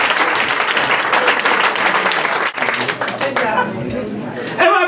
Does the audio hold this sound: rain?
no